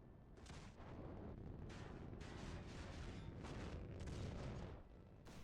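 Torpedoes launching and detonating in the space battle game Nebulous Fleet Command, heard as a sustained rumble of booming, roaring blasts with several surging bursts over the full stretch, dense and fairly loud, without talk.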